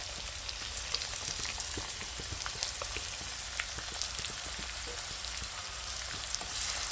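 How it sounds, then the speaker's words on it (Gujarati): Chopped onions frying in oil with ginger-garlic paste for a soya chunk curry in a village kitchen; a steady close sizzle scattered with small crackling pops, no voices. "નાની સાઈઝની 2 ડુંગળી કાપેલી છે એ આપણે નાખી દઈશું"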